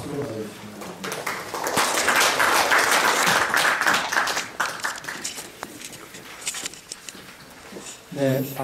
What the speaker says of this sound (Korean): 박수로 맞아주시면 됩니다.